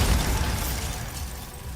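A Bombarda spell explodes in Hogwarts Legacy, a loud crashing burst with a shattering, debris-like crackle that fades slowly over under two seconds.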